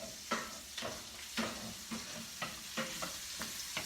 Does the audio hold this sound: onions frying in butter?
yes